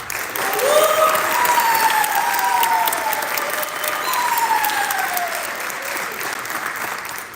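An audience applauds a student alto saxophonist being introduced at a school band event: steady, full clapping from many hands, with a few high whoops and cheers rising over it.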